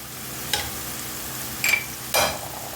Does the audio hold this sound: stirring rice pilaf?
yes